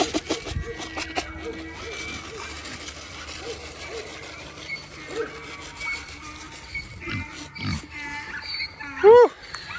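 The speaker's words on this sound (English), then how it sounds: "Come on, pig." A farm pig grunts and oinks in short, scattered bursts amid rustling, rubbing noises nearby, with a sharper squeal-like call near the end.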